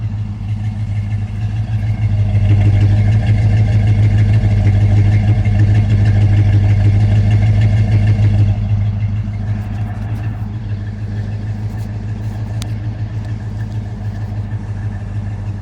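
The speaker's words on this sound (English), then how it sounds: "Just love the way that exhaust sounds." A 1956 Chevrolet Bel Air with a 327 V8 idles steadily with a deep, throaty exhaust rumble, close up and loud, settling slightly quieter partway through.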